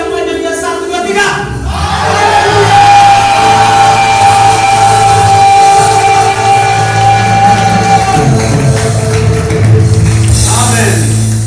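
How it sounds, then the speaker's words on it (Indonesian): A church congregation at GBI Rock Galang shouts a long, sustained hallelujah together, one loud crowd yell held for several seconds and then fading, with a voice and musical accompaniment underneath. "Kalau setuju teriak haleluya sepanjang-panjangnya."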